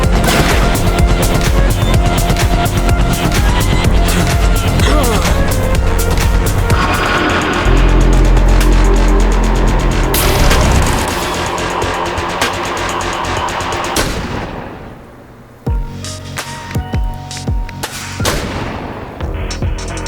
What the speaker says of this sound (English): Harding's got an assault rifle.